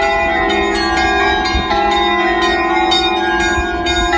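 Church bells ring continuously in snowy, freezing weather in Russia, with repeated overlapping strikes and a dense, sustained metallic hum, loud and close, with no voices.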